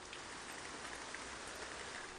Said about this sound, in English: Nasty rainy day.